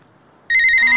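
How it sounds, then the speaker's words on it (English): A toy phone suddenly starts ringing halfway through, a bright electronic trill that is loud and close after a moment of near silence. "Oh, the Maker phone's ringing."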